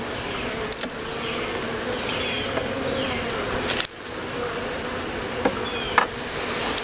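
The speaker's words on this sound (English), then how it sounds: "Next frame's got a lot of bees on it." A dense, steady drone of many honeybees buzzing close by on a frame during a hive inspection, with a few brief knocks and clicks in the background.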